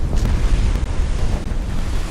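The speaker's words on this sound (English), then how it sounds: "They are dropping a ton of depth charges." Depth charges exploding in a submarine game, a loud, dense, continuous low rumbling roar with no speech and no distinct separate blasts.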